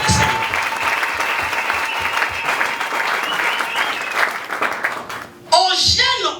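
Congregation in a church worship service clapping and cheering together, a steady, dense wash of applause lasting several seconds, then a brief dip before voices and clapping swell again near the end.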